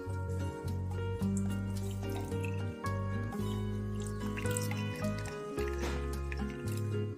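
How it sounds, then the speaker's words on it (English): Lemons squeezed by hand to extract juice, with wet squishing and dripping sounds over a continuous tonal background of steady notes, close and moderately loud with no talking. "The idea is to squeeze everything very well to get the juice out"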